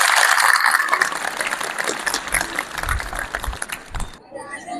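Applause from an audience at a school Teacher's Day celebration, dense and loud at first, then thinning into scattered claps before stopping abruptly.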